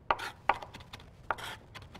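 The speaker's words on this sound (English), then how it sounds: "you see how I'm really chopping up that fine" Knife chopping vegetables finely on a board for an Italian bean soup, a few sharp, uneven cuts spaced across a quiet kitchen with no talking.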